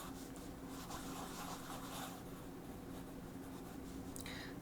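A thin peach-coloured art pencil sketches on paper, making steady, soft scratchy strokes that continue alone at close range.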